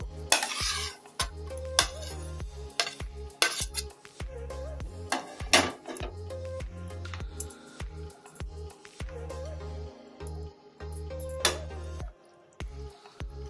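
Fried papaya dhoka pieces dropped into a boiling gravy and stirred with a metal spoon against the pot, giving repeated near scrapes and clinks over a low bubbling simmer with no talk.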